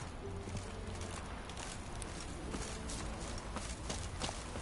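Roach, a horse in The Witcher 3 on PS5, galloping with a steady run of hoof clip-clops over a constant rustling game backdrop, moderately loud with no voices.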